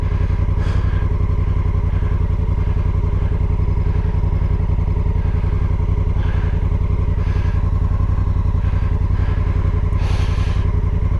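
Honda Africa Twin motorcycle on an off-road trail in Italy, its engine thrumming loud and steady at close range for the whole stretch, with occasional clattering knocks from the rough ground.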